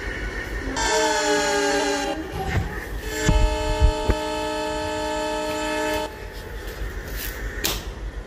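In a train simulator game, a train sounds its horn in long sustained blasts while wheels and carriages rumble past, with a clanking thud midway through.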